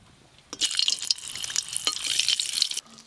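Whole cumin seeds hit hot mustard oil and butter in a kadai, bursting into a loud, close sizzle that lasts about two seconds and then cuts off sharply.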